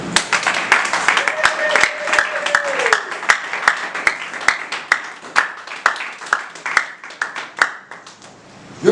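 A church congregation claps, with rhythmic, loud hand claps on a steady beat over a busy background of voices and a sustained tone.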